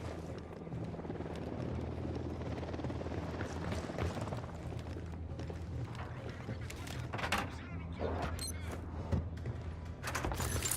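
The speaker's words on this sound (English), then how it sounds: "Chopper incoming." Helicopter drawing nearer in the Ghost Recon Wildlands video game, a steady rotor drone sitting under game effects and scattered bursts of noise.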